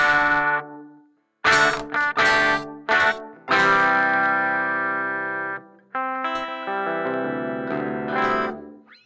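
Electric guitar run through a Walrus Audio Slö ambient reverb pedal: a few plucked notes and chords blooming into long, shimmering washes that sustain and swell, loud and close, with no talking.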